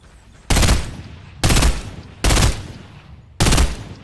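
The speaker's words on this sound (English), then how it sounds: "I'm shooting the shit out of these guys" Four loud, sharp bursts of gunfire in Fortnite at irregular intervals, each broadband and close-sounding with a short decaying tail, over a low background hum and no talking.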